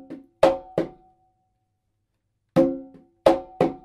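Conga pattern of open tone, ghost note, slap and ghost note from the funk groove of a song, played as sharp, close drum hits in two short groups separated by a pause.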